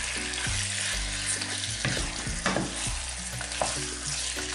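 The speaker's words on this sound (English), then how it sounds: "I'm going to be adding my turkey. And stir it like so." Spiced turkey pieces sizzle loudly in a hot pan with mushrooms as they are stirred, giving a dense, continuous frying hiss broken by scraping strokes, with no voices.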